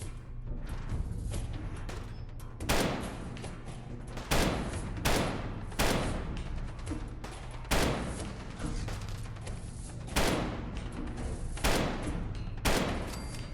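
Heavy, percussive gun firing in Fallout 4, single loud shots spaced about a second and a half apart in a steady rhythm, each with a sharp crack and a short booming tail, close and alone.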